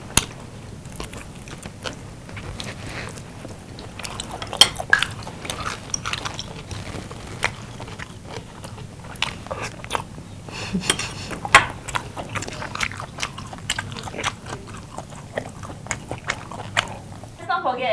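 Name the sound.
people eating and chewing food during a mukbang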